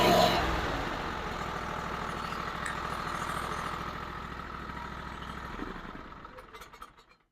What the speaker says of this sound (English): And then you are simply going to start the engine.